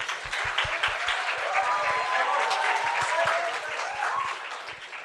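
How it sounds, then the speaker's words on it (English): Audience applause at a university orientation event, with sustained dense clapping from a crowd that runs nearly the whole time and tapers slightly at the close. "Clap."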